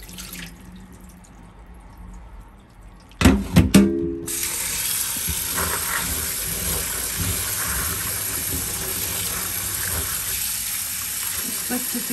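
Running tap water splashes steadily into a sink over soaked chickpeas being washed, after a few sharp clattering knocks, a continuous hissing flow that fills most of the clip.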